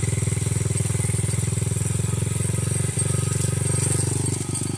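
A small Honda Grom motorcycle engine with a newly installed Nibbi carburetor idles steadily with a rapid, even putter, close and continuous, slightly high and unsteady in speed.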